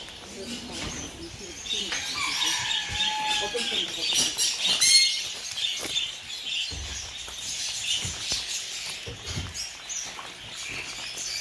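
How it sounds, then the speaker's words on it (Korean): Several birds chirp and call in quick, overlapping bursts nearby at a parrot farm in Hongseong, South Korea, with people speaking now and then beneath the chatter. "새소리"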